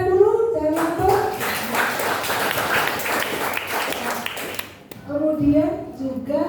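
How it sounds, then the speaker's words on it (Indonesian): An audience at a school socialization session at SMPN 230 Jakarta bursts into clapping, a dense round of applause lasting several seconds between stretches of a speaker's voice at the start and end. "Tepuk tangan dulu, jangan ngantuk."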